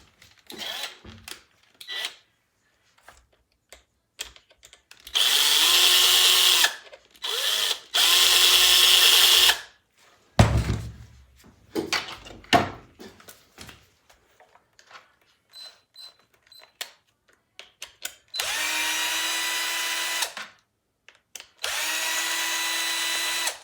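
Power drill backing the screws out of the front bumper on a Traxxas Maxx RC truck. Four close, loud whirring bursts, the later ones in pairs, separated by quiet stretches with small clicks and handling noises.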